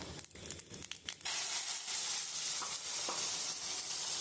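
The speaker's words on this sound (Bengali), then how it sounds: "আমি ওই তেলের মধ্যে আমি ফোড়ন দিয়ে দিচ্ছি জিরে," Cumin, bay leaves and cloves hit hot oil for a jackfruit and egg curry, a few crackles giving way to a loud, steady, close sizzle with no voices.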